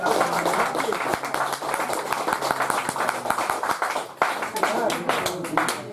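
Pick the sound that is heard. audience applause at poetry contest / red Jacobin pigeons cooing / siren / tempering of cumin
audience applause at poetry contest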